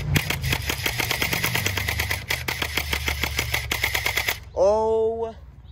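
A real gun fires rapidly at close range, about twenty sharp reports in a steady fast rhythm for roughly four seconds, followed by a brief loud vocal whoop.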